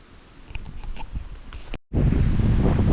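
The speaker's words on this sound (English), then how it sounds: "So the wind here continues to intensify." Loud, steady wind roaring through an old-growth forest in the Sylvania Wilderness in October, with buffeting gusts against the microphone and a sudden cut to a stronger blast.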